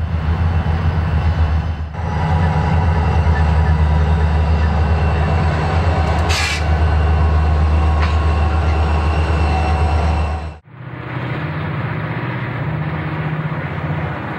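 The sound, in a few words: freight train passing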